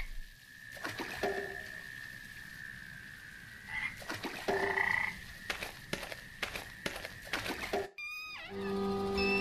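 In the video game Memoranda, pond frogs call in repeated tonal croaks over a low watery bed. A sharp rising chirp-like burst near the end stands out, and no one speaks.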